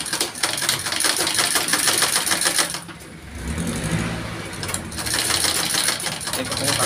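A sewing machine stitches a zipper onto a jacket in fast rattling bursts, loud and close, stopping briefly in the middle and then starting again.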